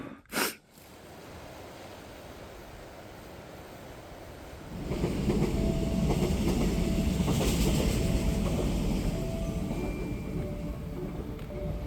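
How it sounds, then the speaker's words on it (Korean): A loud rumbling roar swells in and holds, with rattling and clanking of wheels on track, close by and continuous after a quiet start. "지금 기차가 달리고 있는데"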